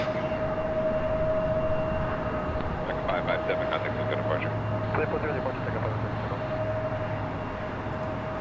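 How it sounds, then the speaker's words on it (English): An Avianca Airbus A320neo takes off from runway 25R at Los Angeles International Airport. A steady distant jet roar with a faint high whine, and a low rumble swells midway, with voices faintly in the background. "Avianca Flight 557 heading to Guatemala City, an A320 and Neo taking off there on 25 right."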